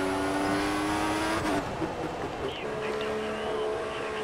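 Engine of an F1 race car in the racing video game F1 2014 at Malaysia, a steady loud high whine with revving that shifts pitch as a car comes alongside and passes, with brief gear changes midway.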